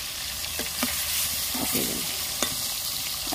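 Pond fish frying in hot oil over a strong village stove fire, a loud dense sizzle and crackle throughout with a few sharper pops, close by.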